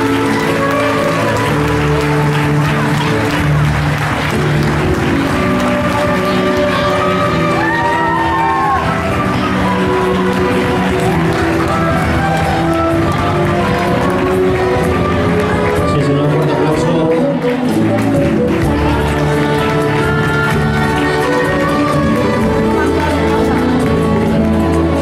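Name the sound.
audience applause at festival coronation ceremony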